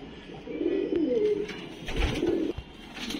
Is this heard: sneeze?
no